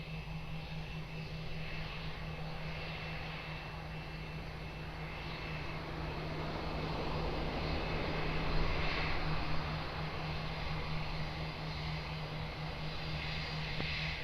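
Steady engine roar of an airplane on approach to runway 02 at Lisbon Airport, heard from a distance as a continuous broad drone that swells slightly midway, with a faint tonal hum beneath.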